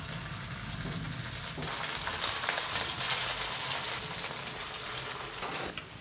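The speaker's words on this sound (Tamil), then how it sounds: "இப்போ நம்ம இதை எண்ணெயில் பொரிச்சு எடுத்துடலாம்." Fish kola balls deep frying in hot oil in a flat pan, a steady dense crackling sizzle that stays even and fairly quiet throughout with no voices.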